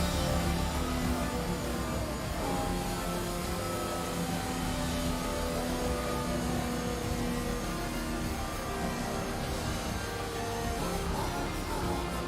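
A Williams Formula 1 car in a racing video game at Monza, its engine droning steadily and loudly throughout, with a sustained mid-pitched whine and no gaps.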